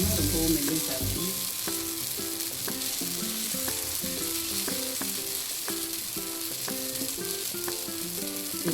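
Adai dosa batter of stone-ground lentils and rice sizzles steadily on a hot griddle, a continuous close frying crackle with faint clinks over a low hum and no talk.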